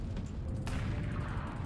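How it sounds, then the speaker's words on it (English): Video game combat with a dense, continuous low rumble of explosions and a sharp gunfire crack partway through, loud and chaotic throughout the short burst. "All I hear is explosions and all that."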